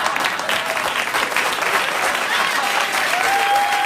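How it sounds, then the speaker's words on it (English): A late-night TV studio audience bursts into sustained, loud applause, a thick steady wash of clapping with faint cheers and no talk over it. "cut with the phony applause"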